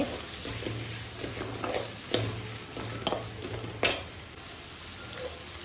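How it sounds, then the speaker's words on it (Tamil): Shallots and garlic sauté in a pan for Tamil vatha kuzhambu, a steady low sizzle of frying broken by a few scrapes and clinks from stirring, close and moderately loud, with no talk. "சின்ன வெங்காயமும் பூண்டும் நல்லா வதங்கி வரணும்"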